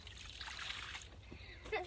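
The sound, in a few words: water poured over a caught carp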